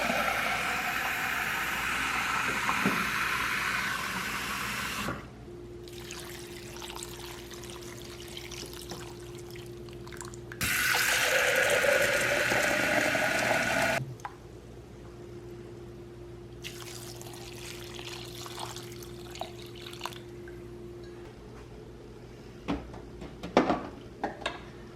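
Water poured from a container into a crockpot holding rice and broth, a steady pouring trickle in bursts with brief pauses between, close by and alone without talk.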